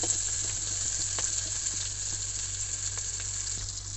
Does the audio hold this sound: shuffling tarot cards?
no